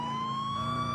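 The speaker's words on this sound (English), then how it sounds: "my sirens" A police car siren in GTA IV holds a steady, slowly rising wail, loud and continuous for the whole moment, with no voices.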